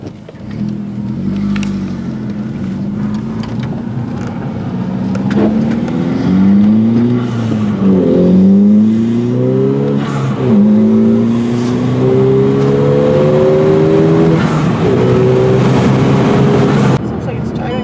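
A VW MKV GTI with a 2.0-litre turbo four-cylinder and AWE cat-back exhaust drives, its loud, smooth exhaust note rising through the gears with repeated upshifts, heard from inside with people talking over it.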